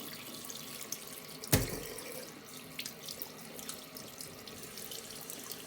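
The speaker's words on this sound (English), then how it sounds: "So just give them a good rinse under the tap." Water runs from a kitchen tap into a sink while herring are rinsed under it, a steady soft splashing with a brief louder splash early on, close and alone.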